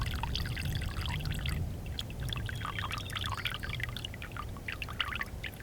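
Water draining out of a frozen water pipe, a close, steady pouring and trickling splash with bubbly spatters on top of a low background rumble.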